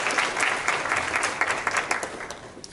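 An audience applauding panelists at a startup pitching event, steady crowd clapping from a medium-sized room, moderately loud and continuous.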